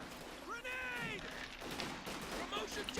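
M7 howitzer carriage firing in a real-time strategy video game, several sharp gunfire-like reports in quick succession within dense battle noise, with a voice talking briefly over the action.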